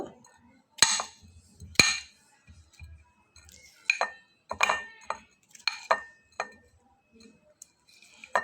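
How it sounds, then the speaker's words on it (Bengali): A spoon mashes boiled potatoes in a dish, giving sharp, irregular clinks and taps of metal against the bowl. The clicks come close and moderately loud with quiet gaps between them, and there is no talking. "এখন আলুগুলোকে একটা চামচের সাহায্যে আমি ম্যাশ করে নেব"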